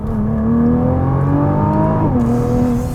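A Nissan GT-R 50th Anniversary Edition with a twin-turbo V6 pulls hard at full throttle from inside the cabin, a loud rising engine drone that dips briefly with a gear change and then climbs again.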